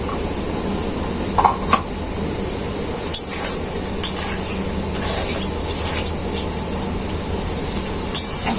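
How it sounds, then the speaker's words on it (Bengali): Potatoes fry in oil in a pan under a steady, fairly loud hiss, with a few scattered clinks and scrapes of a utensil stirring them. "আলুগুলোকে আমি ভালো করে ভাজবো, তাই ঢাকা দিয়ে দিয়ে আলুগুলো ভেজে নেব।"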